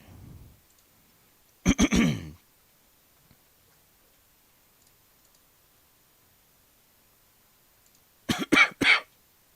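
Several coughs, a short burst of two or three around two seconds and another tight cluster of three near the end, loud and close, with near silence between and no talk.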